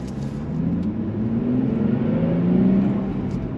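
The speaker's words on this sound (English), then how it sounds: "Love hearing that twin turbo V6" The twin-turbo V6 of a 2025 Nissan Z Performance sports car gives a steady, close engine drone with rising harmonic tones as it pulls under load, loud and continuous with no talking.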